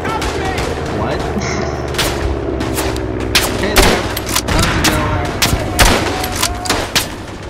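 Rapid rifle and machine-gun fire rattles through a First World War battle in the shooter game Verdun, dense overlapping bursts and heavier booms, loud and continuous, with bright clicks and whines mixed into the din.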